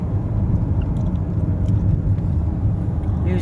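A car rolls slowly along a seaside road on the Basque coast of Spain, a steady, close, low engine and road rumble running continuously throughout.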